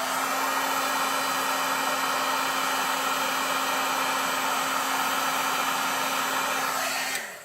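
A heat tool blows hot air to melt a clear embossing coating, a loud steady whirring hum with a fixed tone that runs unbroken for about seven seconds before switching off.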